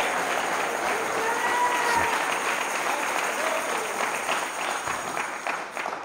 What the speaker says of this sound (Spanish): Dele palmas de alabanza al Señor.